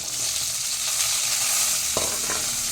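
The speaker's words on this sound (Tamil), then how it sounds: "மூணு பச்சை மிளகாய் கீறி போட்டிருக்கோம்" Slit green chilies fry in hot oil with mustard seeds and cumin, giving a steady, close sizzle with a few sharp crackles and pops, with no voices.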